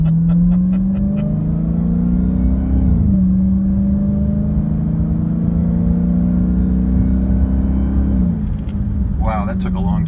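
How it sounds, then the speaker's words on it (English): A 2019 Dodge Charger/Challenger Hellcat accelerates from 0 to 60 in valet mode, its engine droning loudly and steadily with a long, gradual rise in pitch and a brief dip at one gear change. "this is 0 to 60 in valet mode."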